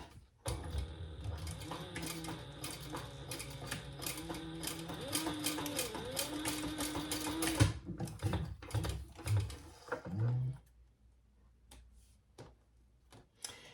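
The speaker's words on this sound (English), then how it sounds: "And then we're going to stitch as close to that D-ring as we can get." A sewing machine stitches through vinyl on a bowler bag close to a D-ring, a steady mechanical run for several seconds, then a few short bursts and stops before quiet.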